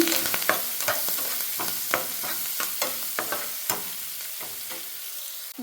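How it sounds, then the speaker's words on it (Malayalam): Onion, green chili and curry leaves sautéing in a pan, a steady close sizzle with repeated scraping stirs of the spoon, loud with no talk. "ഉള്ളിയും പച്ചമുളകും കറിവേപ്പിലൊക്കെ കൂടി ഇട്ട് കൊടുക്കാൻ പോവാം കേട്ടോ ഇങ്ങനെ വഴറ്റി കൊടുക്കാം"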